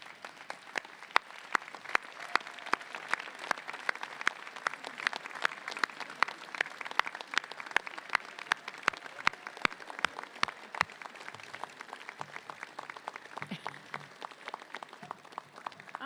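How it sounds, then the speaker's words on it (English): An audience at a graduate master's commencement ceremony applauds, a long, dense wash of many hands clapping at a distance, steady and sustained throughout. "give them a big round of applause to say thank you for all their support during your journey"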